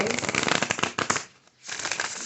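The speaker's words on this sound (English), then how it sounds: "as I shuffle these cards" A deck of cards is shuffled by hand during a card reading: a close, rapid papery riffling runs for about a second, pauses briefly, then resumes steadily.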